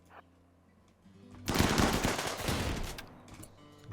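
Rapid crossfire in the colony game Rimworld erupts as a dense, loud burst of overlapping gunshots and automatic fire, lasting about a second and a half before tapering off into quieter scattered shots.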